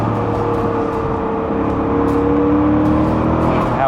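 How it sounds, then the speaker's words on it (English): An Arctic Silver BMW Z8 roadster with a 6-speed manual downshifts on a country drive, its engine droning steadily then rising in pitch as the revs climb near the end, heard close and alone without talk. "I just wanted to show you just a little bit of like a downshift."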